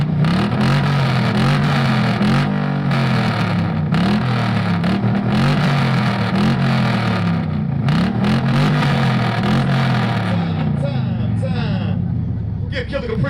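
A Chevrolet Caprice revs hard at a loudest-exhaust competition, its booming exhaust rising and falling in repeated throttle blips over a constant loud drone, close by, with a crowd and an announcer's voice underneath.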